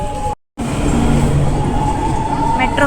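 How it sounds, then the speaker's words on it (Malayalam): Metro train pulling away from a station, a steady broadband rumble with low tonal motor hum and brief high squeals, loud and close, after a short silent gap at the start. "മെട്രോ പോയി."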